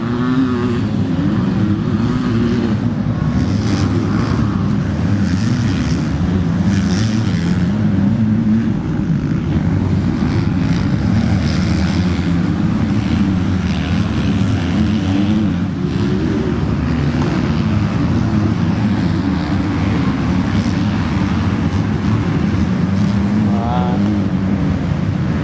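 Several 250cc junior motocross bikes race past on a dirt track at a Cessnock round, their engines a loud, continuous rasping roar that swells and fades as riders pass at close range.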